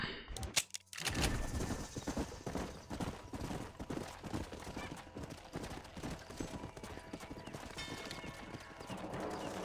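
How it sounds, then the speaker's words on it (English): Horse hooves clop steadily across the ground in Red Dead Redemption, with a whinny and game ambience; a few sharp pops sound early on. "They're horses."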